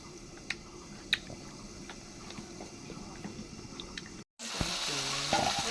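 Curry masala being sautéed and stirred in a pan at home, a steady close sizzle and scraping carried on under faint talk, with a brief break before a louder, brighter frying hiss resumes.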